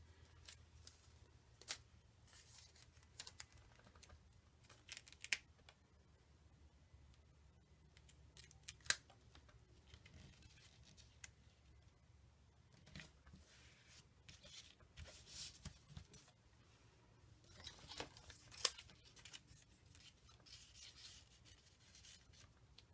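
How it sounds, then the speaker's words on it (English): Scissors snip through strips of yellow paper, giving quiet, scattered cuts and rustles that come close by in a hushed room. "I'm going to cut one more I might put up there."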